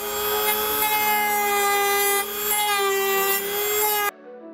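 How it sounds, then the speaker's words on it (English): A very small Dremel fitted with sandpaper grinds metal brackets flat on a BMW F80 M3 S55 heat-exchanger install, a high whining tool tone with a brief dip midway, then stopping abruptly near the end. "I'm just going to use a very small Dremel with a piece of sandpaper on there,"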